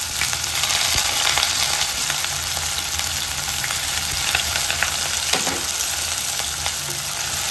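Onions and green chilies fry in hot oil with a steady, dense sizzle that holds at a close, loud level throughout, broken only by faint stirring scrapes.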